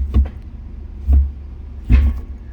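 Three solid mechanical clunks, spaced about a second apart, as the 4x4 shift lever of a 1998 GMC Crew Cab dually truck is knocked into position, with a low idle hum underneath.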